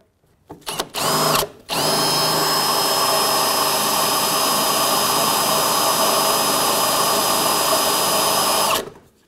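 Loud power drill with a bigger bit: a few short stuttering bursts, then a long sustained high whine as it bores steadily into a pinch weld on a 2000-07 GMC Yukon rocker panel, ending abruptly.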